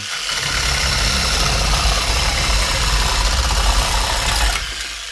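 A loud, continuous buzzing motor of an AL-KO cordless reciprocating saw cutting boards, with a rapid rough chatter, runs nonstop, then cuts off abruptly near the end.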